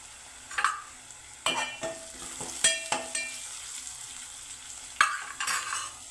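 Tender tamarind leaves hit a hot pan and are stirred, with a quiet steady sizzle under several sharp clinks and scrapes of a utensil against the pan, close and spaced irregularly.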